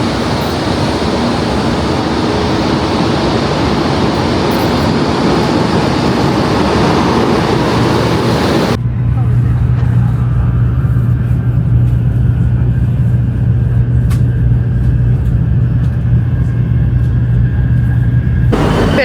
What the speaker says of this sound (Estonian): Lähme nüüd kiirrongi peale